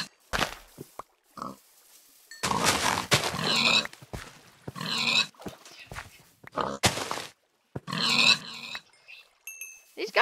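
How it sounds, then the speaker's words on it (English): Pigs in a Minecraft-style video game grunting and oinking in repeated short bursts separated by quiet gaps, with occasional thunks and footsteps. "Field of pigs! Field of meat!"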